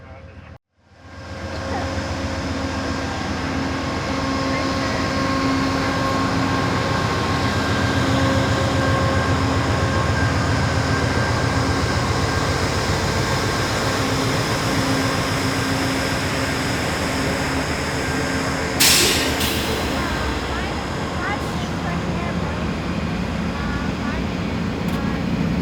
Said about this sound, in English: these massive engines built by General Electric that will haul us all the way through to California